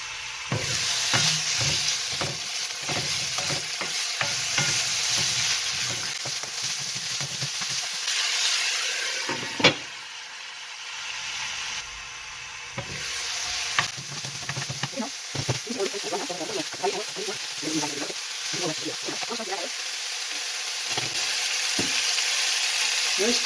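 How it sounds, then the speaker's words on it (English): Meat frying in a pot for Korean kimchi stew, a steady close sizzle and hiss with scraping from stirring, briefly quieter midway, with some talk in between. "fry the meat and until it's a little bit brown"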